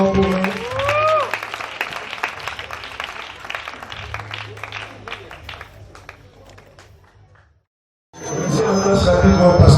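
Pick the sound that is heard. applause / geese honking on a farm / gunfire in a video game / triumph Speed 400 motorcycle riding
applause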